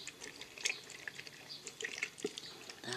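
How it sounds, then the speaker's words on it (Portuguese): Homemade bleach poured from a container, heard as faint, close splashing and dripping of liquid over a few seconds in a quiet room. "vou colocar um pouco dessa água sanitária aqui"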